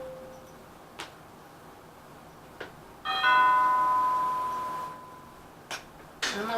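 A doorbell rings during dog training at a home door, giving one clear sustained chime that slowly fades, surrounded by a few sharp knocks or clicks before and after, fairly close and otherwise quiet.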